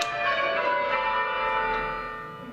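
Church tower bells rung by a team of ringers, overlapping bright metallic tones sounding together and decaying slowly, with no talk.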